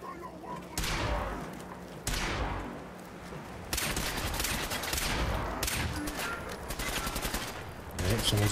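Rapid bursts of gunfire from Fallout 4 erupt at a super mutant camp, loud, near and dense, with several sustained volleys and heavy thuds stacked over continuous battle noise; a voice speaks briefly between shots.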